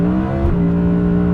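A rear-wheel-drive Audi R8 GT's V10 engine pulling hard under acceleration, a loud steady droning roar with a brief shift in pitch partway through, heard close from inside the car.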